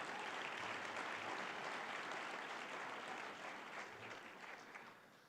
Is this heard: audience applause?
yes